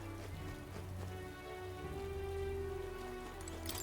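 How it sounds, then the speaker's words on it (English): Steady rain patters on surfaces in the video game Metaphor: ReFantazio, a continuous soft hiss heard alone at moderate, even loudness, with a sustained tonal game music drone underneath. "Raining."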